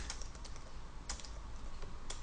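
Fingers type on a computer keyboard, with quick uneven clicks and a few sharper key strikes over a steady background hum, close and with no speech.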